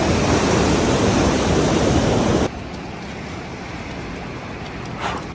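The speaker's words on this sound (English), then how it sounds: "The water is so strong right now because of how much rain we got. It's flowing right now." Loud rushing river water near Mount Everest, swollen after heavy rain, roars close by, then drops suddenly to a softer, steady flowing wash.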